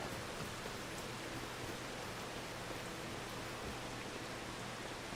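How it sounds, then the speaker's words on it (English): Steady rain falls in the Farming Simulator 25 game, a dense, even hiss of downpour filling the whole scene at low level with no talk over it. "While we wait for the rain to pass over."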